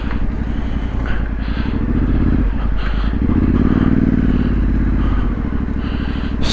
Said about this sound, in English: just riding the bike by feel